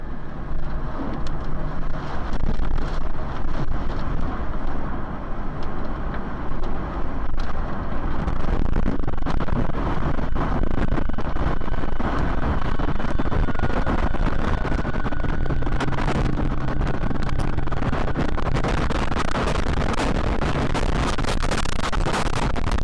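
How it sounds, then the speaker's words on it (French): A tornado's winds of about 130 km/h roar around a house, caught by a dashcam as a loud, unbroken rushing buffet of wind against the microphone that lasts the whole stretch. "des vents soufflant à 130 mm/h dévastent la maison et ses environs"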